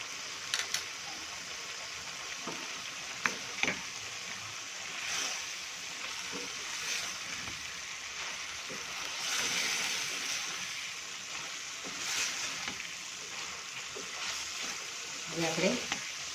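Carrots and onions with Kashmiri chili and spices stir-fried in a pan, a soft sizzle under repeated scraping and clinking of a spoon stirring, with a few louder knocks of the utensil against the pan.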